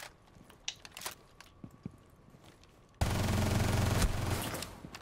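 Gunfire in the Rainbow Six Siege video game: scattered sharp shots for three seconds, then a sudden loud, sustained burst of rapid automatic fire filling the rest of the moment.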